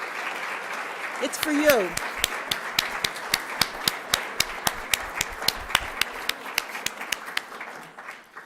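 An audience at a legislative education conference applauds, with brisk, evenly spaced claps that carry on for several seconds; a speaker talks briefly near the start, and the clapping fades toward the end.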